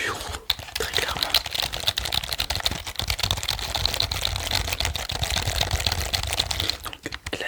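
Typing on an HP flat-key office keyboard, a steady run of quick, close key taps through the whole stretch with a soft background hiss and occasional heavier clicks.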